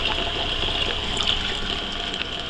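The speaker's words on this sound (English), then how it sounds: "We're going to add some tap water and bring the level up to the line." Tap water pours steadily through a small funnel into a bucket, a continuous close trickling stream with a bright splashing hiss.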